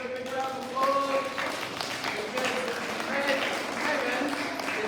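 Pupils at a school celebration assembly give a round of applause for a classmate called up, with moderate clapping running under a voice talking over it.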